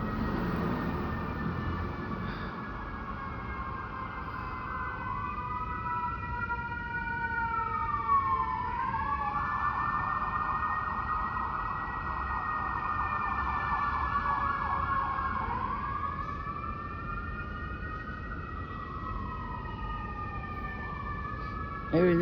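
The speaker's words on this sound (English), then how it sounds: "And there's the sirens again." Wailing emergency sirens from ambulances, fire trucks and police pass outside, several rising and falling tones overlapping continuously at steady volume over a background of traffic rumble.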